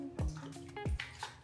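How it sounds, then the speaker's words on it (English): Splashes of white vinegar poured into a pan of water being warmed on the stove, heard as two or three close, soft liquid drips and plops spaced about half a second apart, with faint kitchen background. "a few splashes of white vinegar"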